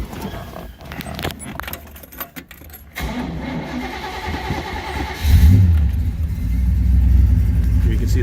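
Keys jingle and rattle in a 1967 Oldsmobile 442 convertible, a door thumps, then the engine cranks and catches with a loud close roar and settles into a steady, rough-edged idle.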